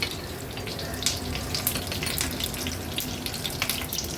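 Steady crackling sizzle of mustard seeds popping in hot oil, dense and continuous, with small sharp pops scattered throughout at close range.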